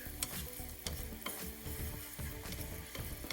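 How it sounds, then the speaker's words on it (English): A pot of crawfish boil broth cooks for a Viet-Cajun crawfish boil, giving a quiet bubbling sizzle mixed with scattered stirring and light metallic clinks, with no talking. "And now I add my broth and let it cook."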